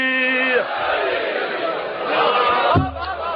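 A large crowd at a Shia religious majlis gathering roars the slogan Haidari in loud unison, a sustained massed shout swelling twice and filling the hall.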